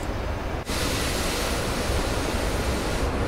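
Steady roar of a Su-25A wingman jet taxiing out in the flight sim DCS, a continuous broadband engine whine that holds level for about three seconds after a brief dip.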